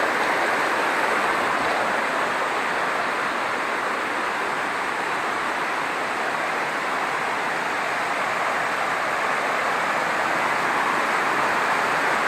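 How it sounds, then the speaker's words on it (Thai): The waterfall at Mae Kampong village in Chiang Mai pours in the rainy season, giving a steady, dense rush of falling water that fills the air evenly with no voices. "นี่ก็คือน้ำตกนะ"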